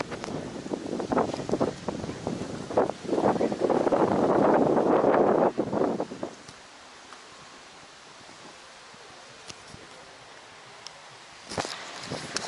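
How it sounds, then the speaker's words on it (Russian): A rough burst of wind buffets the microphone for several seconds, then drops away to a quiet outdoor hush with a brief gust near the end. "Какой-то ветер прямо подул."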